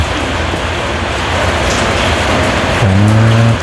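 Steady rain falls in a dense, loud hiss without a break, and a low engine hum joins near the end, with no talking.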